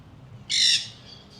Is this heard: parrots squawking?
yes